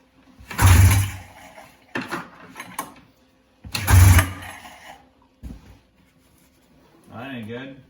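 A 1994 Polaris Indy snowmobile engine is pulled over to start, giving two loud rough bursts that sputter and die, with scattered clunks between them and a voice near the end.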